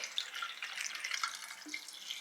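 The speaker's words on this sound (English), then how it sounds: "Pour the water into your enema bag." Water poured into an enema bag, a faint steady splashing trickle with light bubbling, heard close and alone.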